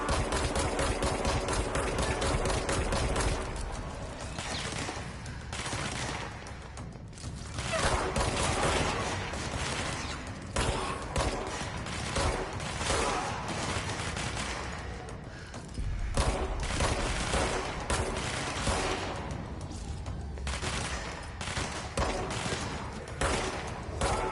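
Continuous video game gunfire in Control, dense overlapping shots and impacts forming a sustained roar of fusillade over about twenty seconds, loud and busy throughout.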